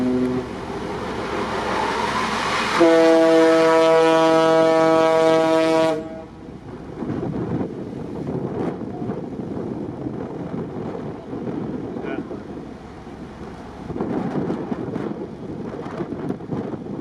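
Large ship battered by monster waves in a storm: loud, continuous roaring wash and crashing water throughout, with a tonal horn-like blast early on, then heavy surging rumble swelling again near the end.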